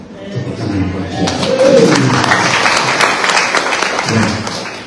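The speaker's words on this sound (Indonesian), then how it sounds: "Tepuk tangan buat dia." A church congregation claps during a sermon, the applause swelling to a peak midway and then tapering, with voices murmuring through it.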